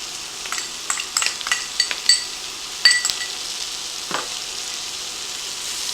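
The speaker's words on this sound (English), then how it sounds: "I'm going to add 2 teaspoons of minced garlic" Minced garlic and vegetables sizzle in a soup pot for beefy nacho soup, a soft steady hiss close by with bright spoon scrapes and clinks against the pot in the first half, and no voices.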